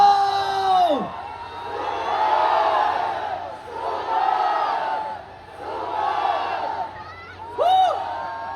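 A big crowd at an outdoor political rally in Liwasang Bonifacio shouts together in three long, swelling roars, booming through loudspeakers between calls from a speaker on the mic.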